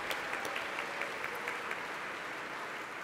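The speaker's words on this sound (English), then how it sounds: "Give him a round of applause." A lecture-hall audience applauds a speaker with a steady, even patter of many hands, faint and distant, sustained without a break and with no voices over it.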